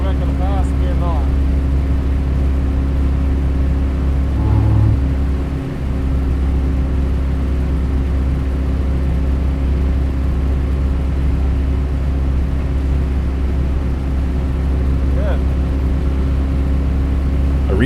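Race car engine droning at high revs during a track day time trial, a steady loud in-car hum with a brief dip partway through as someone talks over it.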